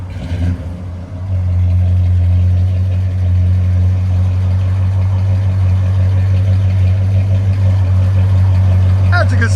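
A 1972 Chevy C10 pickup with a 350 V8 and true dual exhaust through Flowmaster Super 44 mufflers idles loud and close, a deep, steady rumbling burble that holds evenly after a brief start.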